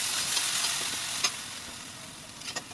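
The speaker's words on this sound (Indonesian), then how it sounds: "tumis bumbu halusnya ini sampai mateng" Ground spice paste sautéed in about five spoons of frying oil sizzles in a continuous hiss, with a few brief crackles and stirring scrapes, close and alone.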